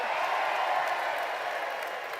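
Applause from an audience at a pun championship as the winner is celebrated, a dense, even wash of clapping that holds steady and fades slightly at the end.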